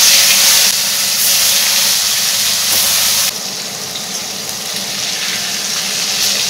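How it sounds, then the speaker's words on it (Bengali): Pasha fish frying in hot salted oil gives a continuous bright hiss and sizzle, loud and close, easing slightly partway through with no talking. "এবার আমি ভেজে নেব"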